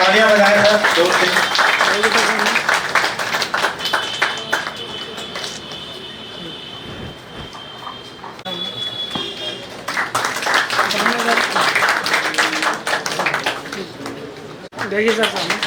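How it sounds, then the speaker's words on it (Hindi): A crowd at a retirement felicitation for teachers claps in sustained bursts of applause, fading to a murmur in the middle before swelling again, with people talking over it. "तालियां बजाएं सर जोर से।"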